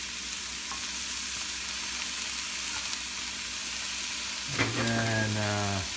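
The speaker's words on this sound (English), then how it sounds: "We're gonna mix it. Put soy sauce or kikkoman sauce." Food sizzles steadily in a hot pan as soy sauce is stirred in, a constant close hiss with faint scraping, then a brief rising tonal whine near the end.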